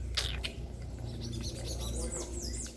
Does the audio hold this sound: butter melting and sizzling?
no